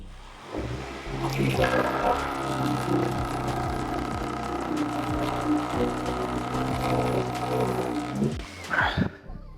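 A Dnipro-M PE-35 RX eccentric orbital sander runs at minimum speed with a steady whirring hum, close and fairly loud, holding continuously before cutting off near the end.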